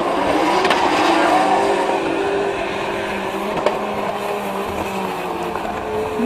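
A drift car slides through a corner at the French Drift Championship, its engine droning loud and steady with tire noise and a brief sharp spike midway.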